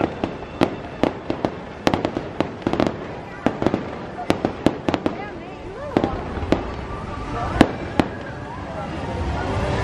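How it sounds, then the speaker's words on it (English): Fireworks at Magic Kingdom, Walt Disney World, popping and cracking in a rapid, irregular series of sharp bangs, with crowd noise and voices in the background. "Tonight's bonus fireworks."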